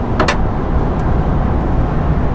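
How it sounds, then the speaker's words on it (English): A 2022 Chevy Silverado V8 with a 10-speed transmission cruising at about 70 mph in top gear, a loud, steady broadband road and engine roar heard from inside the cab with no talking. "I'm going about 70 miles an hour, and I'm pretty sure it's in 10th gear right now."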